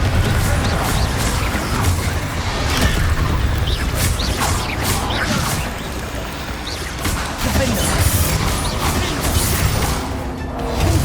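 Confringo blasting spell explosions in the Hogwarts Legacy video game, a rapid series of crackling bursts and crashes with rumbling booms, loud and continuous throughout.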